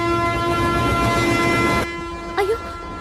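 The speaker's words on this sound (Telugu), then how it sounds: "అయ్యో ట్రైన్ స్టార్ట్ అయింది" A Godavari express train's horn sounds steadily at a station for almost two seconds, then cuts off, leaving lower rumble and a short rising toot as the train begins to pull away.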